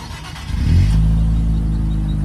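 A 2023 Nissan Z with a VQ engine revs hard from idle: a low exhaust rumble swells sharply into a loud, deep, sustained growl. Close and alone, with no talking.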